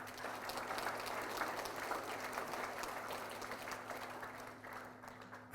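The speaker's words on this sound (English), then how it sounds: "a big round of applause to the team and also the board." Steady applause from a crowd fills the room at an official rebranding ceremony in Fiji, a continuous wash of clapping at moderate level with a low electrical hum underneath.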